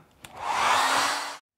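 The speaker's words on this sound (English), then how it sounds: "Or of course, you can use a hairdryer." A hairdryer clicks on and blows a steady, loud whooshing stream onto a drying watercolour painting for about a second before cutting off abruptly.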